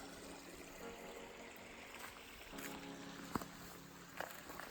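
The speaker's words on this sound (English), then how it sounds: "this creek is clearly flowing nicely." Rain-swollen creek water along Arkansas's Eagle Rock Loop flows in a quiet, continuous rush, broken by a couple of faint nearby knocks.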